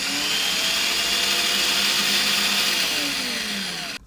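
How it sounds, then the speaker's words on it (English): An electric coffee grinder motor whirs loudly while grinding coffee beans, a steady high droning roar with gritty texture and slight pitch wavering, close and continuous before cutting off abruptly at the end. "Let me show you how it sounds while grinding coffee beans."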